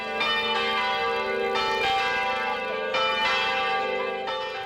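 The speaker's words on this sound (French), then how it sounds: "les cloches des églises de Montréal ont sonné." Montreal church bells peal repeatedly in overlapping, ringing strikes, loud and resonant with long sustained overtones.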